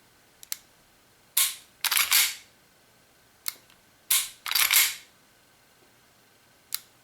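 Crisp mechanical clicks from the trigger of a WE 1911 4.3 Desert Warrior gas blowback airsoft pistol, a few single clicks and two louder paired snaps of break and reset, close and sharp against a quiet room.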